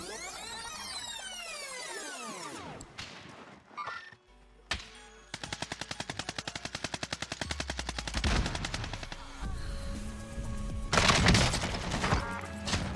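Rapid bursts of automatic gunfire from a shooter video game, heavy rattling volleys that swell and pause across the stretch, mixed with game effects and no talking.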